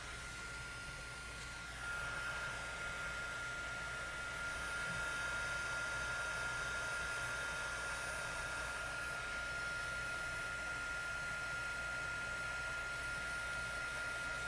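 A heat tool blows steadily as it melts embossing powder over a stenciled card, a constant whooshing fan hiss that rises a notch about two seconds in and then holds level, with a thin high whine running through it.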